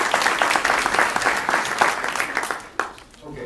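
Applause from an audience at a Federal Way mayoral candidates' forum, dense steady clapping that fills the room and then thins out toward the end.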